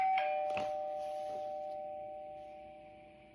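A doorbell at a home chimes twice near the start, its ringing tone lingering and slowly fading away over a few seconds, with no voices.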